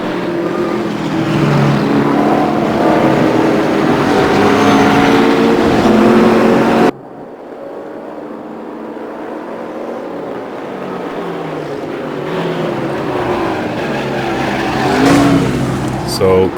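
Race cars in a sim racing game, engines roaring loudly at high revs as a car chases and tries to pass a Bentley, then a quieter stretch of engine drone with a voice talking over it.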